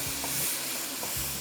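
Turmeric, red chili and Kashmiri chili powder stirred in a hot pot of oil, a steady sizzling hiss with a few soft scraping strokes of the spoon.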